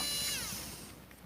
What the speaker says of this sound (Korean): 그 다음에 전동으로 풀면 잘 풀립니다